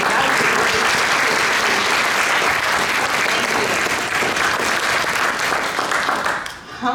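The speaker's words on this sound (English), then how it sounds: "Another round of applause for Stephanie." An audience at a Toastmasters district session gives a speaker a sustained round of dense applause that stays loud and steady before dipping at the very end.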